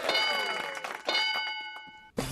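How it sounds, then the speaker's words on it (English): A phone notification ding: two bright, ringing chime tones back to back, each with a sustained tail. A short clatter follows. No one speaks over it. "That was my phone."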